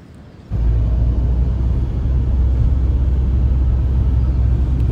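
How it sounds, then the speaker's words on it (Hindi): A car engine catches after a quiet moment, then a loud steady rumble carries on as the vehicle drives off along a road near Mandi in Himachal Pradesh. "करते हैं गाड़ी स्टार्ट"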